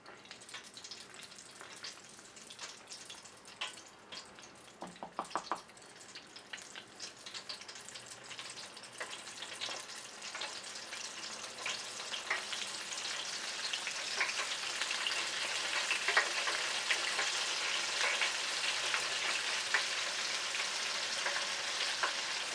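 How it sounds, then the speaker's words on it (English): Catfish and whiting nuggets fry in a deep fryer, a dense steady sizzle and crackle that swells louder over time, with a few stirring clinks early on and no voices. "Now we're going to place them in the"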